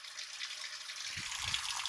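Water leaking from a basement boiler unit runs in a continuous hissing, gushing stream, close and steady, with faint low knocks joining near the end.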